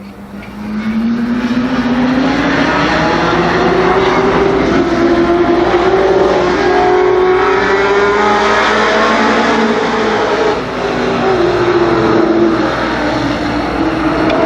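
Late model race cars roaring at Columbus Motor Speedway in 1991, a loud, sustained engine drone with rising and falling pitch as the pack runs together, with no voices over it.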